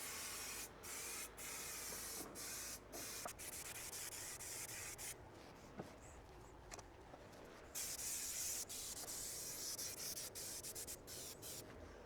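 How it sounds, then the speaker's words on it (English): 3M headliner adhesive hisses from an aerosol can onto the back of car carpet in a run of short, sharp spray bursts with brief gaps between them, close and fairly quiet. "And then I'll also go back and spray the back of the carpet."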